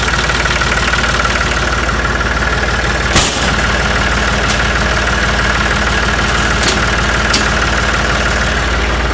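Beat-up farm tractor engine running steadily after a solenoid was hit to start it, a continuous rumbling idle with a few brief knocks and clanks, close and loud.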